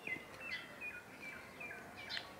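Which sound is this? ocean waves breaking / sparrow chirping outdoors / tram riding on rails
sparrow chirping outdoors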